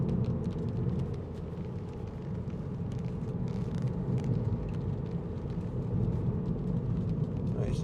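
A 2015 MINI Cooper SD hatch with a 2.0 engine and six-speed automatic driving over a rough, potholed road, a steady low rumble of engine and tyres with scattered small knocks and rattles from the cabin.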